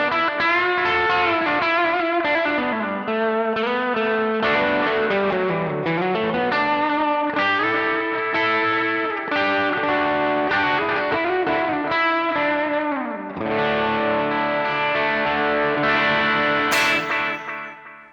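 Electric guitar played through a Joyo Aquarius multi mode delay pedal, loud sustained distorted lead notes and bends with repeating echoes trailing each phrase, a short pause, then more playing, with no talking.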